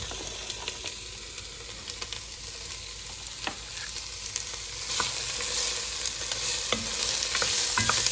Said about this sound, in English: I'm gonna stir this around.